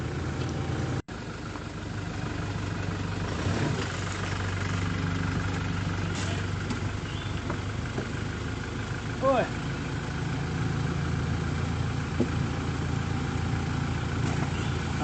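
A Toyota Hilux Revo Rocco 4x4 pickup's engine runs at a steady low rumble while it creeps along a rocky streambed, holding an even, close drone for the whole stretch with a few faint knocks and soft background voices.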